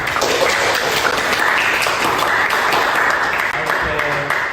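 Sustained audience applause fills the room at a management facilitator's cost accounting class, steady and dense clapping throughout with no talk over it.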